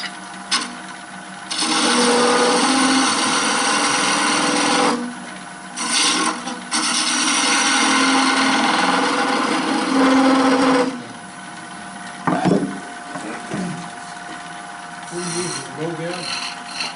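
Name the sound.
detail gouge cutting wood on a lathe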